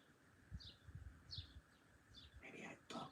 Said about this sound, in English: I can hear the birds better than you.